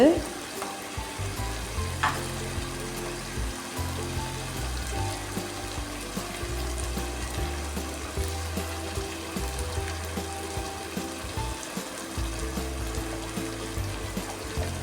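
Chicken gravy ingredients sauté in a pan with a constant close sizzle and a steady run of stirring scrapes, loudest at the start then even throughout.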